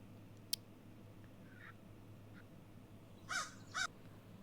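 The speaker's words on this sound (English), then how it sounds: "Noisy crow." A noisy crow caws twice, a pair of short, fairly close calls near the end of an otherwise quiet stretch with a low steady hum and a faint click earlier.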